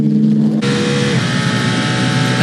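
An Aston Martin race car building speed down the straight at the Bahrain 8 Hours endurance race, heard as a loud engine roar that suddenly swells and holds as a dense, continuous rasp.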